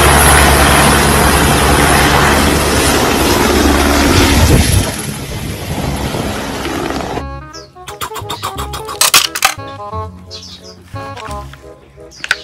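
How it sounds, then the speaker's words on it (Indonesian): A toy helicopter whirs loudly with a dense, buzzing rotor-like drone for several seconds, then cuts out and gives way to chirpy electronic toy sounds and brief talk. "Wow, ini ada helikopter."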